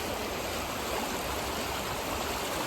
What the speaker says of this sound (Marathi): हे नदीचं खळखळतं वाहतं पाणी आणि या पाण्याचा आवाज कानावरती पडला की मन अतिशय शांत होतं